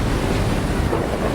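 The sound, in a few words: powerful waves crashing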